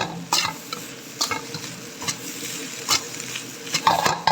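Chicken fried rice stir-fried in a pan over high flame at a restaurant, with steady sizzling and repeated sharp scraping and tossing strokes of a ladle at irregular intervals, close and fairly loud, no talking.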